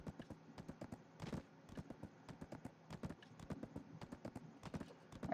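Horse hooves clip-clop steadily in the video game Black Desert, a fast and regular rhythm of close, distinct hoofbeats with no other sound over them.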